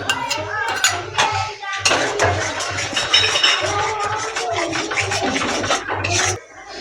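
Pabda fish with onions and yogurt is stirred in a pan, giving close, repeated metallic scrapes and clinks of a spoon against the pan in an uneven rhythm.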